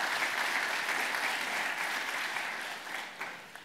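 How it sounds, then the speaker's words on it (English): Applause from a conference audience at a DevOps event, a steady dense wash of many hands clapping that holds for several seconds before tapering slightly at the end, with no talk over it. "give a quick round of applause for the organizers and the volunteers and the sponsors"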